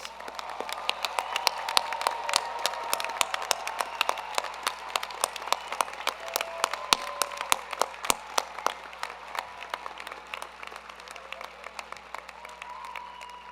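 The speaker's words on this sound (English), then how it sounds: "Let's give them one more round of applause." Audience at a fall 2021 graduate and professional hooding ceremony giving graduates a round of applause, dense, sustained clapping with sharp individual claps standing out, moderately distant.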